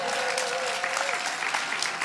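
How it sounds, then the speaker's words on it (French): Steady applause from an audience at the closing-evening ceremony of Le Bon Moment 2025 at La Nef, dense clapping at moderate distance, continuous throughout with a faint tonal hum underneath. "Vous pouvez vous applaudir."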